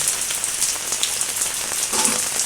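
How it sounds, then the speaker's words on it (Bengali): Steady rain falls and patters on surfaces nearby, a dense, even hiss with scattered droplet taps that carries through the whole stretch, with no voices. "বৃষ্টিতে খুব ভিজলাম"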